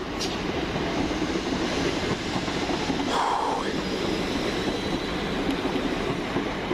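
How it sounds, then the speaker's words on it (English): A train runs through East Croydon station without stopping, a steady rolling rumble of wheels on rails with a brief squeal partway through. "The approaching train does not stop at this station."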